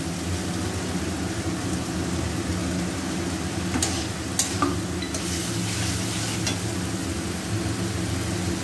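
Fried potatoes being stirred into a sizzling vegetarian banana flower curry, a steady close frying hiss with a low hum beneath and a few brief scraping clicks of the spoon midway.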